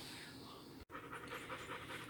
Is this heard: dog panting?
yes